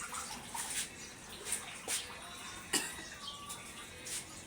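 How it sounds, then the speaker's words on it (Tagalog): Running water splashes intermittently while dishes are washed, with soft clinks and brief bursts of flow, fairly faint and close, plus a light cough. "Maghugas na po ako plato."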